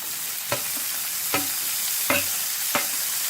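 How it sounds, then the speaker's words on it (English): Onions, chopped green chili and tomato sauté in a pan under a steady loud hiss, with four sharp spatula scrapes against the pan at regular intervals. "saute them for a while. Let them cook."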